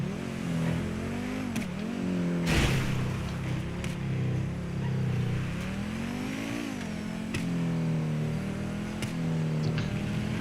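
A supercar's engine in GTA 5 Online drones steadily throughout, its pitch rising and falling with throttle changes and a few sharp bursts near the start, loud and continuous with no talk.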